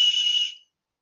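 A voice imitates a whistle with a short, steady, high-pitched hiss that lasts about half a second and then stops abruptly.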